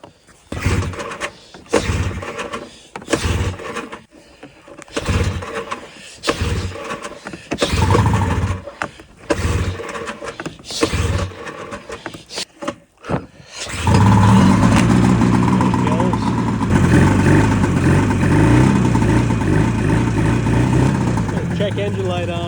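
A twin-pipe snowmobile engine cranks in short repeated bursts, then catches and settles into a loud, steady running roar that fills the rest of the clip.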